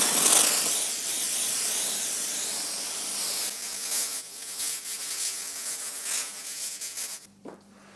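A steam cleaner gives a continuous loud hiss on a car's interior plastic, using too much steam, fluctuating and gurgling in the second half, then cutting off abruptly near the end.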